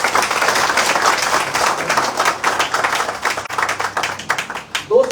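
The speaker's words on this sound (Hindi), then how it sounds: "मैं चाहता हूँ एक बार हमारे सीनियर लीडर के भी जोरदार ताली दें।" An audience at an AWPL business seminar in Patna, Bihar breaks into loud, sustained applause, a dense wash of many hands clapping that continues steadily for about five seconds.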